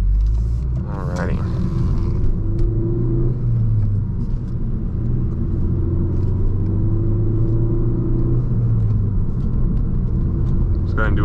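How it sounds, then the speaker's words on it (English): A 40k-mile Ford Focus ST in sport mode accelerates in a third-gear pull, its engine rumbling steadily from inside the cabin as the tone climbs and drops, with someone talking over it. "Let's go ahead and do a third gear pull here."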